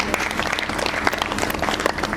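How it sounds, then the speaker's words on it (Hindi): Audience at a Hindu jagran, a devotional night gathering, clapping together in a steady, dense burst of applause that fills the whole short stretch, fairly close and loud. "एक बार ताली बजाओ अपने लिए सभी"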